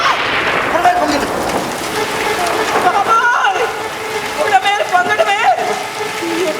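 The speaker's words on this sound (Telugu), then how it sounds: "వర్షం కురుస్తూనే ఉంది" Rain falling as a stage sound effect in a Telugu play, a steady broadband wash of downpour running throughout, with voices speaking and calling over it.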